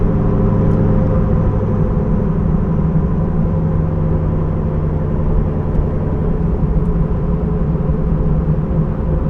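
A C5 Corvette with an aftermarket exhaust cruises in fifth gear at about 1,500 RPM, giving a steady, loud, low droning rumble from inside the car that holds constant throughout with no talking.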